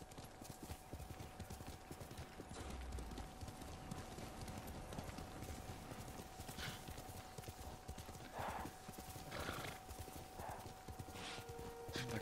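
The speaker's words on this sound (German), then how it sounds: "Das ist ein braves Pferd" Horse hooves clip-clop in a steady walking rhythm in the video game Ghost of Tsushima, fairly quiet beneath a faint background hum, with the pace continuing throughout.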